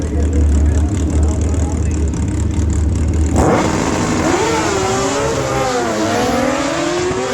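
Drag racing motorcycles launch at Maui Raceway Park in a bracket race, engines roaring loudly and climbing in pitch as they pull away, with an announcer talking throughout.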